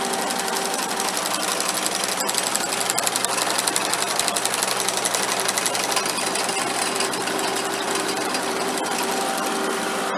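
Converted sickle mower running at speed, a loud, steady mechanical chatter with rapid rhythmic knocking that continues without a break and has no talk over it.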